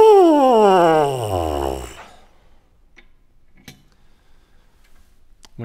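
A trombone's cup-shaped brass mouthpiece buzzed on its own, without the horn, gives a loud, nasal, buzzy tone sliding down in pitch for about two seconds, then stops into near silence with faint clicks.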